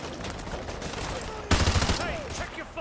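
Gunfire bursts out in a Modern Warfare 2 Remastered campaign battle, a sudden rattle of rapid shots over a noisy combat backdrop, loud and close, with a brief voice nearby.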